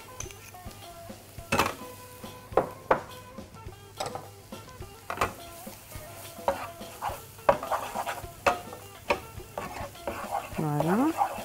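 Potatoes frying briefly in a sauce with tomato paste: a soft sizzle under repeated stirring scrapes and clinks of a utensil against the pan, with a voice talking now and then.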